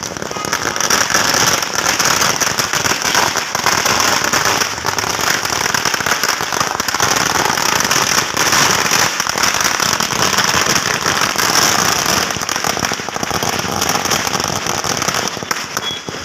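Dense, continuous crackle of firecrackers bursting at a street celebration near Valmiki Circle in Challakere, a loud, rapid string of snapping pops that runs unbroken for about sixteen seconds.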